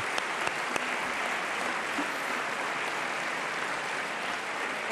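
Steady applause from a large audience at an Italian Army concert, a dense, continuous wash of clapping that holds level throughout with no break and no talking over it.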